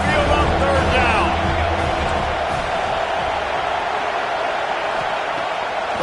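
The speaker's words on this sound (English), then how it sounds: "The Tide crowd roaring noise down on the Saban field on third down." A stadium crowd roars at the Alabama Crimson Tide's home field on third down in a college football video game, a dense, sustained wash of cheering that is loudest at first and then settles into a steady rumbling din.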